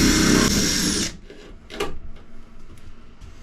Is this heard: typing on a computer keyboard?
no